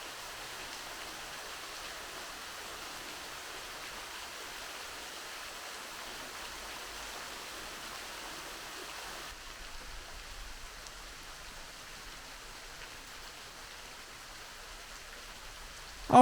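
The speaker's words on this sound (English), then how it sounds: "With a nice constant flow of water" Waterfall water flows steadily at Hocking Hills State Park in Ohio, a soft, even hiss of falling water heard from some distance, continuous throughout with a brief knock at the very end.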